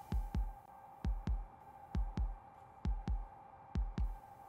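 Heartbeat in a horror film: deep, close thumps in paired lub-dub beats repeat at an even rhythm over a steady low hum, with no talk.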